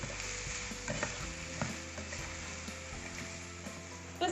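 Sliced onion with a little salt frying in a pan for a Mughlai chicken dish, with a steady close sizzle and repeated scraping stirs, no talking.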